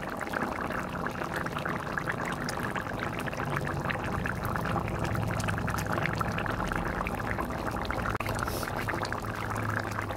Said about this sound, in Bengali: আপনারা যে যেরকম ঝোল রাখবেন ওরকম পরিমাণে জল দেবেন।